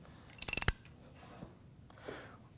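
A quick run of five or six sharp ratchet clicks as jacking bolts are tightened on a Gorman-Rupp Super T10 pump while its shaft is turned, followed by faint scattered handling noises in a quiet room.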